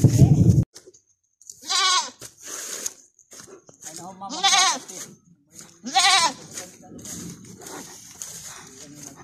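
Several goats bleat in wavering, nasal cries close by, three prominent calls spaced apart, with a brief burst of noise at the start and a faint background whine.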